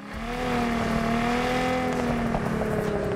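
A sports car in the Test Drive Unlimited video game is held on launch control, its engine revving in a steady, loud droning whine that holds one pitch and sags slightly toward the end.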